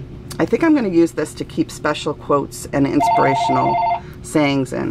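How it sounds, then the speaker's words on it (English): A telephone rings in a room, a repeated electronic trill lasting about a second, heard under a woman's close, continuous talking. "that's my phone"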